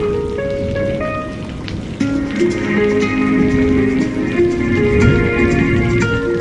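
Heavy rain falls at night, a dense, steady patter on surfaces that is close and loud throughout.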